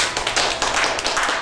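Audience applause opens a stage performance, a dense, steady wash of many hands clapping at once, loud and sustained across the whole moment without speech.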